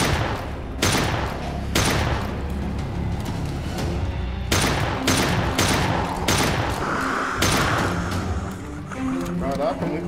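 Repeated heavy gunshots from a powerful weapon in the horror video game Daymare 1998, loud blasts at irregular intervals over a dense background of game noise and monster sounds, with voices talking over the action.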